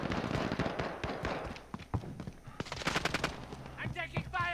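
Rapid automatic gunfire and sharp shots in a Call of Duty Modern Warfare gun game match, loud and dense bursts near the listener, with a voice talking over the shooting.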